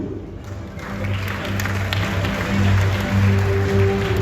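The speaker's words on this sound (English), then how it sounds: "Let's put our hands together for Director in the Department of Cultural Affairs and Sports, Mr. Thabo Tutu." Applause from the audience at a sports awards ceremony, steady and full as it builds and holds for a few seconds, with music playing underneath.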